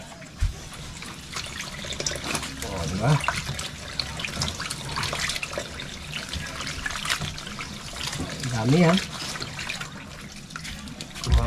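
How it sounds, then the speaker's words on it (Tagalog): Water running from a tap while something is rinsed, a steady gushing stream under casual talking, with splashes and small clunks here and there. "luglugan mo dun sa may gripo dun"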